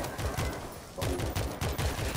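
Rapid bursts of automatic gunfire from the zombie shooter World War Z, Jerusalem level, hammering in repeated loud volleys with brief gaps between them.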